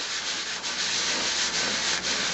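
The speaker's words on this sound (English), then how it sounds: "we're just going to hold the piece down and sand." Steady, close hand sanding of a resin bangle with a continuous gritty rasp, the strokes shifting slightly in rhythm, with no voices.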